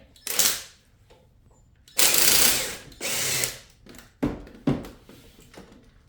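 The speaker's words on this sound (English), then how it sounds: "So now we take the bolt here loose and a bolt on the bottom and the alternator will come out" Ratchet fitted with an angle adapter loosening 15 mm alternator bolts on a C5 Corvette with an LS6 engine, giving several bursts of rapid clicking, two long and three short, separated by pauses, close and clear.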